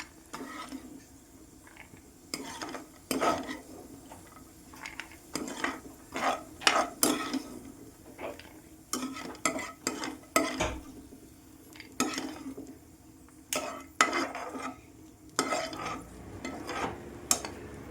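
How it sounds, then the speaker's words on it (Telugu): Dry fruits being fried in oil and stirred in a pan for bread halwa, with repeated scraping and clinking strokes of a spoon against the pan in irregular bursts over a soft background sizzle, close up and without talk. "డ్రై ఫ్రూట్స్ అన్నీ బాగా ఫ్రై అయిపోయాయి"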